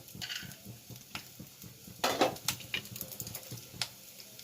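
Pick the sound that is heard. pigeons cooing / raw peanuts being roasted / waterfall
raw peanuts being roasted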